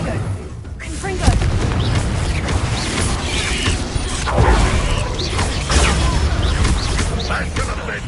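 Confringo spell blasts in Hogwarts Legacy during a fight, heavy booming impacts and crashes over constant battle noise and shouting voices.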